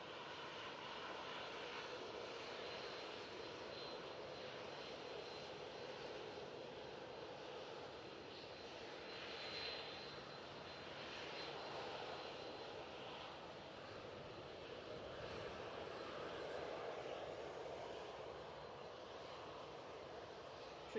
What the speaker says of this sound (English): We have this Ryanair 737-800. Out to depart next.